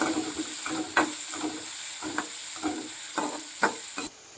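Garlic, ginger and green chilies sauté on medium flame in a pan for Kerala-style fish pickle, a steady bright sizzle broken by roughly eight clacking spatula strokes at a regular pace, close and alone.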